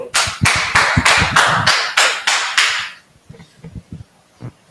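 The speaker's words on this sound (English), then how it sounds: "Clap it up." Audience clapping at a class gathering, loud rhythmic bursts of applause with about nine sharp, regular waves of claps, then fading to a few scattered, quieter claps near the end.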